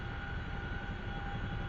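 Chinook helicopter in the DCS flight sim, its engines producing a steady, loud, continuous roar with a constant whine tone riding over dense low rumble, alone without talk.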